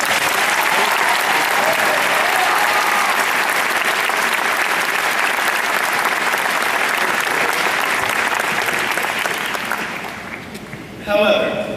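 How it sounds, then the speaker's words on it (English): A graduation audience at Freedom High School applauds a teacher in a long, loud, dense burst that fades out near the end, and a voice briefly starts speaking as the clapping dies down. "Could we get a round of applause for Mr. Fierro?"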